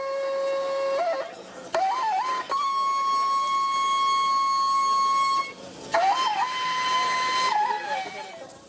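A flute in a Fulani pastoral setting plays long held tones broken by short trills and ornamented slides, clear and fairly loud in a few phrases separated by brief pauses.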